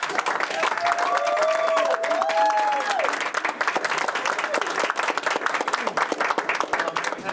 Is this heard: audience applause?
yes